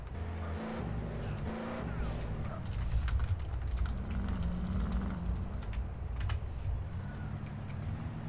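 Rapid clicks of typing on a computer keyboard patter over a steady, loud engine drone from a car in a game.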